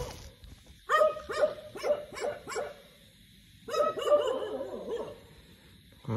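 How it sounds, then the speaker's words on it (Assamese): Repeated dog barking at a petrol pump late at night in two volleys, a quick run of five or six barks, a pause, then a longer rapid flurry, fairly near and clear. "আমালৈ চাই চাই ভুকিছে নে কিবা কিবি আহিছে নেকি"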